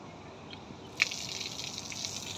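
Shower water gushing and splashing steadily at an outdoor pool in Malaysia on a sunny morning, fairly quiet, with a brief sharp splash early on and no talk.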